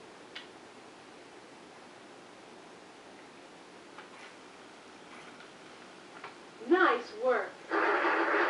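A prize wheel in a televised-style word puzzle game spins with quick clicking ticks that slow as it winds down, followed by a burst of noise, faint and under light room ambience.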